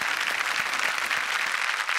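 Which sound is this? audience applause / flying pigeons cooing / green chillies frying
audience applause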